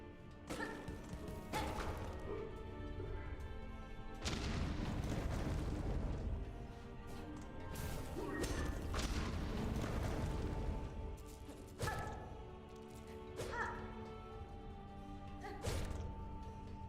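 Enemy explosions in Hollow Knight Silksong land as repeated loud crashing booms and thuds over steady game music, with several heavy blasts spread through the stretch.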